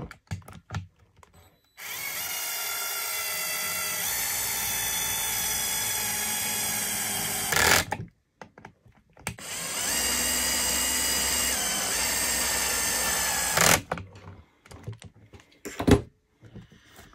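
A power driver spins out the screws holding a model RC truck's motor plate, with two sustained high whirring runs of several seconds each, separated and followed by light clicks and handling of small parts.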